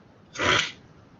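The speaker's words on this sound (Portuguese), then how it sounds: "tá vindo um espirro, gente, espera só um pouquinho" A single sharp sneeze, close and loud, bursting out briefly in otherwise quiet surroundings.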